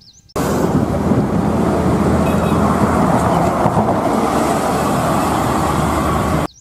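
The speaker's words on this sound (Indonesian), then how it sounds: "Mobil bus warna merah." A red bus rumbles steadily nearby, a coarse low engine drone with broadband noise, holding constant for about six seconds.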